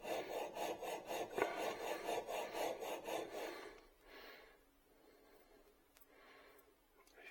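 A 30-year-old chisel is rubbed back and forth on a metal diamond sharpening plate, giving a rhythmic rasping scrape of about a dozen quick strokes, then softer, sparse scrapes and faint handling.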